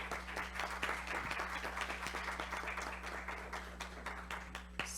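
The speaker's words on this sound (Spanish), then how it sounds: "Un aplauso, por favor." An audience at a panel discussion on pandemic challenges applauds steadily for five seconds, dense and even clapping from a room full of people, with no voices over it.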